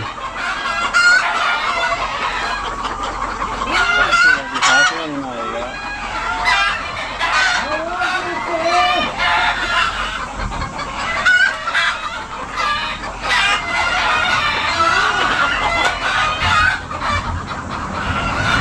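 Native chickens cluck loudly and steadily at a hillside farm in Saudi Arabia, with a rooster crowing several times through the nearby flock.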